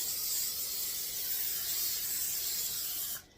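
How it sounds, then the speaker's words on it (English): Spray cooking oil from a can hisses steadily onto a tray of taquitos, one continuous close spray for about three seconds before cutting off. "So you're going to spray it with your spray oil."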